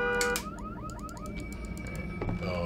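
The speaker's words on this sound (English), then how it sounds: "Oh, we have to listen to that fucking honking?" A car alarm in the horror video game Visage, a rhythmic electronic warble that rises and falls in repeated sweeps, heard steadily with some clicking over it.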